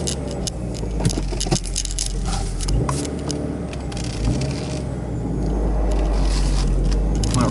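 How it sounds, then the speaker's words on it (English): Old manual car driving along with a clunky, scraping front end, a steady engine rumble mixed with irregular knocks, rattles and metallic scrapes close by. "Something ain't right up front. Something sounds clunky."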